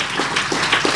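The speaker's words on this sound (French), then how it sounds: "on peut les applaudir" Audience clapping in a conference hall during a talk on nursing homes, a brief, close burst of hands that sounds uneven and a little sparse, with no speech over it.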